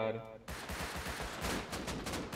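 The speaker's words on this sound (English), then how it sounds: "He shot me through the wall." Automatic gunfire crackles in rapid bursts in the console edition of the survival game Rust, coming as a dense volley of shots right after a short tone, fairly close but moderate in level.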